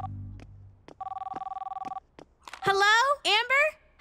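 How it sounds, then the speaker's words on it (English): An electronic mobile phone ringtone in a cartoon chirps once, then rings in a steady rapid trill for about a second before cutting off, and a few short spoken phrases follow. "You need better ringtones."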